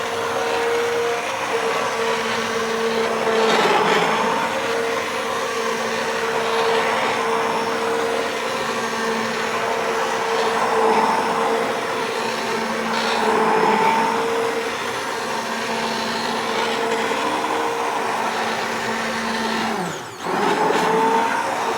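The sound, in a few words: stick blender mixing soap in crock pot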